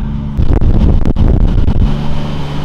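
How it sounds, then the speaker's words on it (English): A turbocharged Toyota 2JZ engine, a budget NA-T build, roars loudly on a dyno, a heavy low rumble swelling into a burst of revving before settling back toward idle. "Make your car sound like that, Tyler"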